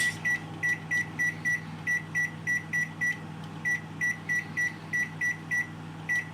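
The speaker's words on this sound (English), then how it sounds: "now it is on the inside the microwave, and now I'm changing the time for 30 minutes." A microwave oven gives a long run of short, sharp electronic beeps in quick, regular succession as its timer is keyed in, close and distinct over a low hum.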